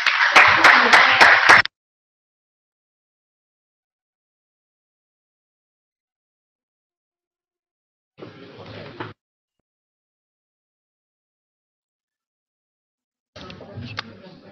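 Applause at a city council meeting: a loud burst of many hands clapping steadily for under two seconds, then silence broken by two brief, fainter patches of noise.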